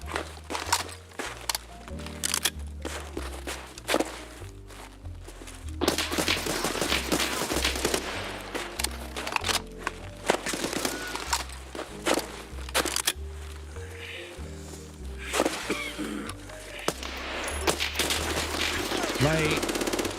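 Rapid bursts of automatic gunfire crackle through a video game firefight, short volleys and longer sprays layered over footsteps and background game noise, with someone talking at times in between.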